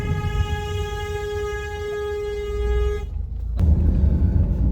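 A loud, sustained vehicle horn blares at a cow for about three seconds, then cuts off, leaving rumbling engine and road noise close by.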